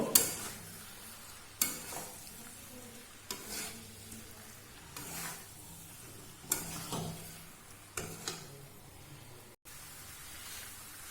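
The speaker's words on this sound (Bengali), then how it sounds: "এটাকে এইভাবে আমি আরো 3-4 মিনিট ভেজে নেব।" Yardlong green beans fry in a pan while being stirred in a regular rhythm, with about seven distinct scraping strokes roughly every one and a half seconds over a quiet, steady sizzle and no voices.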